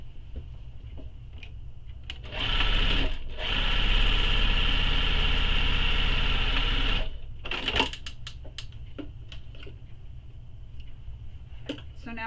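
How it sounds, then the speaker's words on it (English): A sewing machine stitches the second side of a tote bag in one loud, steady whirring run of about five seconds, with quieter handling clicks and taps before and after. "Before I top stitch, I'm just going to sew the second side."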